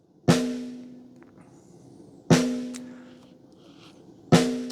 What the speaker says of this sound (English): Then we have our snare top and snare bottom over here, which sounds like this.